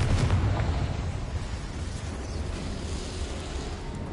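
A Confringo spell from Hogwarts Legacy erupts in a heavy, rumbling explosion with a deep boom at the start that rolls on as a loud, sustained roar.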